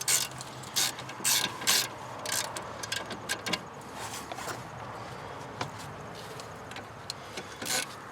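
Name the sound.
ratchet breaking loose brake caliper bolts on Santa Fe Sport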